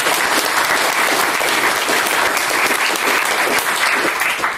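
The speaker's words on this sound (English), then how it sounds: "So give them an applause" Conference audience at a process mining camp applauding the registration helpers, a full steady wash of many hands clapping, loud and sustained, with a few voices underneath.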